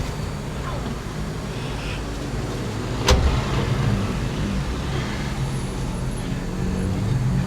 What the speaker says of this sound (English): So this is a shuttle bus.